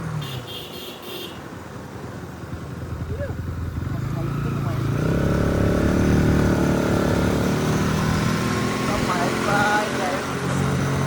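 A Bajaj Pulsar 220 motorcycle rides on a valley road trip, its engine rising from a quieter start into a steady, loud drone that holds to the end, with voices talking over it.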